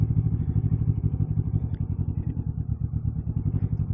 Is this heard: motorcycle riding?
yes